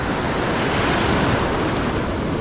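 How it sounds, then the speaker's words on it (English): Ocean waves break on a San Diego beach on a summer morning, a continuous broad wash of surf close by, loud and steady with some wind buffeting the microphone. "I'm waiting for the waves to break"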